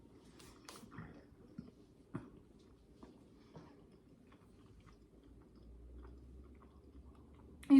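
Soft, close chewing and light crunching of pretzel bites with jalapeno cheddar dip, with faint irregular bites against a quiet background and a brief louder thump at the end.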